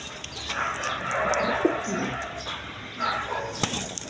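A-grade crested pigeons, some with pink beaks, coo in a soft continuous murmur while wings flap and flutter in short bursts, with a faint voice now and then in the background.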